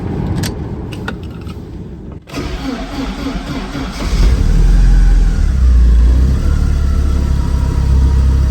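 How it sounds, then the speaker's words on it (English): A cold car in neutral is cranked and fires up. A brief jingle and click come first, then the starter whirs and the engine catches around the four-second mark, settling into a loud, steady low rumble close by. "Let's give it a start and see if everything works."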